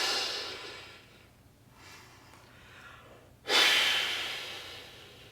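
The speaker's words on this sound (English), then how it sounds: "They're full, loud, deep breaths that come from way deep in my belly." Full, loud, deep breaths drawn from the belly, a long airy exhale fading away, quieter breathing, then a sudden strong inhale-exhale rush close to the microphone.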